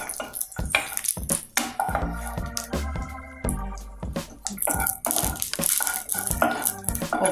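Cashews and raisins roasting in ghee in a pan for kesar bath, with a spoon clinking and scraping against metal while a soft sizzle runs underneath, busy and close.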